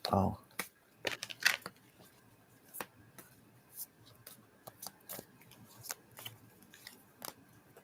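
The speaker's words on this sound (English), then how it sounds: "I'm going to shuffle these." Soft, quick riffling and snapping of tarot cards in short bursts, with a brief whisper at the start and scattered light taps between.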